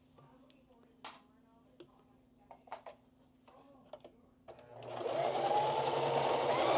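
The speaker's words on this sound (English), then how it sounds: "I love the sound of my sewing machine." Sewing machine stitching fabric in a small home workshop: scattered ticks and clicks first, then the motor kicks in with a loud, steady whirring rattle that runs to the end.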